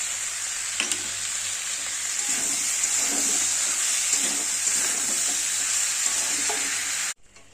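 Chopped tomato and ginger-garlic paste frying in a pan for a bhetki fish dish give a loud, steady sizzling hiss with faint stirring thumps, stopping abruptly near the end.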